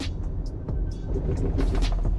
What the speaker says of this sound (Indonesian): kita mau lewat speed bumps yang agak tajam-tajam ya